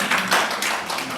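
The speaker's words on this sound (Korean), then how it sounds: "박수 한번 주시죠." Brief burst of audience applause at a teachers' camp history class in Korea, a short spatter of claps at moderate level with no voices over it.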